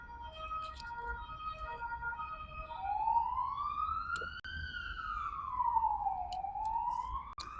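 An emergency vehicle's wailing siren rises and falls in long slow sweeps, moderately distant over steady low city rumble in central Warsaw, with no talking.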